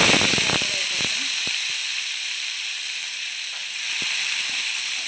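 Cumin seeds frying in hot oil for Andhra mango pickle rice, giving a bright continuous hiss and sizzle that stays loud and steady after a few crackles and clinks at the start.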